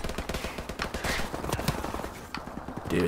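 Gunfire from Call of Duty 4 as a full magazine is emptied, a rapid run of sharp shots, fairly quiet, with game noise underneath.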